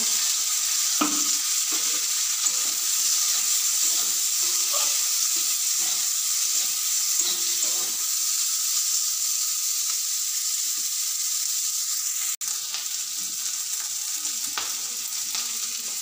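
Steady loud sizzling of chopped onions and green chillies frying in oil previously used for frying fish, continuous crackle throughout, with a few soft clinks of a utensil.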